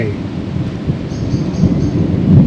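Steady rain with low rumbling thunder outside during a road trip around Poland, a continuous broadband wash that swells slightly toward the end, with no talking.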